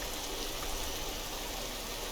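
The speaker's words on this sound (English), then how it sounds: "it's certainly the heavy rain" Heavy rain pours in the video game Empyrion Galactic Survival, a dense, steady hiss with no gaps and no voices.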